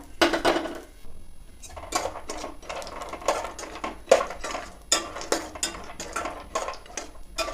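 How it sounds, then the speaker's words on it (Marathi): Dry fruits roasting in ghee in a pan for dink ladoo: a spoon scrapes and clinks against the pan in irregular close bursts, fairly quiet, with no voices. "तुपामध्ये सुकामेवा भाजून घेऊया"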